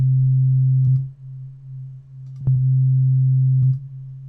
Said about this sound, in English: now if I were to go to Serum and play C3